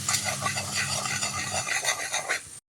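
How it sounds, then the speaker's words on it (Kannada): Kashmiri chilli powder being stirred into melted butter in a pan for paneer capsicum butter masala, a steady close scraping and stirring with a light sizzle underneath, continuous for a few seconds before cutting off. "ಅದನ್ನು ಹಾಕಿ ಒಮ್ಮೆ ಮಿಕ್ಸ್ ಮಾಡ್ಕೊಳ್ತೀನಿ."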